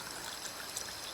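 Liquid pours and splashes at a forest wild camp with a wood-burning stove, a brief, steady, fairly faint stream of running liquid with no talking.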